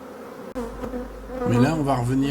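Honeybees buzzing at an open beehive during a hive body change in late June, a dense steady drone that swells louder in the second half, with a voice speaking over it.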